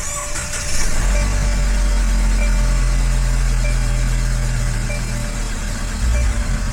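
A car engine is started after coolant work and settles into a loud, steady idle close by, with a low, even hum that holds for several seconds and has no voices over it.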